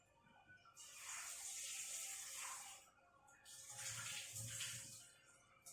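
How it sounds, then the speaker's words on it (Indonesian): Jengkol beans being rinsed under running water for gulai kapau: two long stretches of steady splashing flow broken by a short pause, close and fairly loud, with the muffled clatter of beans moving in the water and no talk. "Kita cuci dulu jengkolnya karena ada yang bekas tangan. Kita bilas."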